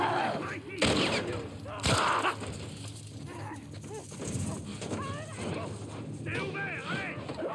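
Shotgun blasts in the video game The Last of Us: two loud bursts early on, over continuous game noise with dog-like whimpers, while someone talks throughout.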